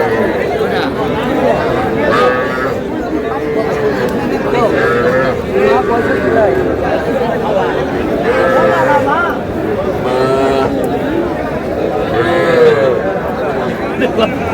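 Young bull calves at a cattle market in Madaripur moo again and again in loud, drawn-out calls over constant crowd chatter and nearby voices talking.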